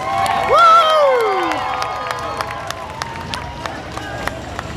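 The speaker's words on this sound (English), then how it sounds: "Give yourselves a round of applause." At a Halloween Horror Nights preview event at Universal Studios Orlando, a crowd cheers with a loud whoop up front, then scattered claps and cheers continue at moderate level, with voices mixed in.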